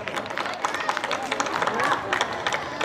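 Audience members clap at a Ramlila event, with irregular, close claps over a murmur of crowd chatter.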